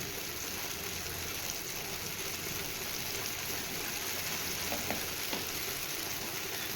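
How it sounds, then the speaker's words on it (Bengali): Taro (mankochu) paste being stirred and dried in a pan, a faint, steady hiss of gentle cooking with a few light scrapes, quiet and continuous. "এভাবে নেড়ে নেড়ে আমি এখন এটাকে শুকিয়ে নেব"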